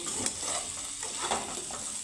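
Taro pieces fry in hot oil in a pan, giving a steady close sizzle with a few scraping stir clicks on top.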